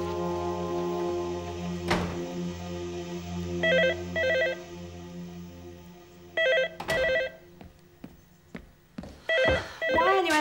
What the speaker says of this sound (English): Isn't anyone going to answer that phone?